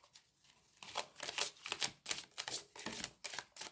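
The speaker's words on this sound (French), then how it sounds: "Il est vraiment compliqué à mélanger ce jeu." A deck of tarot cards shuffled in repeated quick riffling bursts, close and crisp, with short pauses between them.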